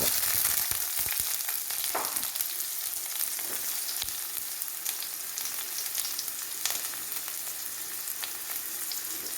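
Shallots frying in hot oil with popped mustard seeds for a Kerala beef and raw banana curry, a steady close crackling sizzle with sharper spits and pops throughout, no voices.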